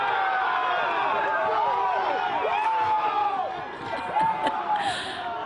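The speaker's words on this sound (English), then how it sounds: "And the crowd and the stands and the team go wild." A college baseball crowd in the stands cheers wildly after the final pitch of a Sac State no-hitter, a dense roar heard under a commentator's voice that carries throughout.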